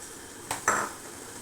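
Two quick metallic knocks of a spoon against a pan while a poppy seed and nut paste with sour yogurt is stirred for chicken roast, the second clink louder, then quiet hum.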